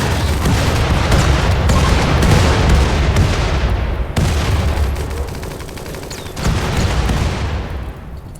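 A pirate raid in a video game end battle unleashes heavy rocket launcher blasts and gunfire: loud, dense booms and rattling shots overlap continuously, with fresh explosive bursts cutting in around the middle and toward the end.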